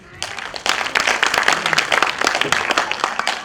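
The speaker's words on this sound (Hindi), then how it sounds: "एक बार जोरदार तालियां" Audience applause after a doctor's talk at a hospital event, a burst of dense clapping that starts abruptly and continues steadily, fairly loud and close.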